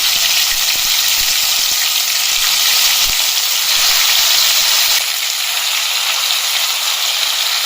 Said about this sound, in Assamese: তেল গৰম হৈ গেল ইটা মাংস পিস দি দিম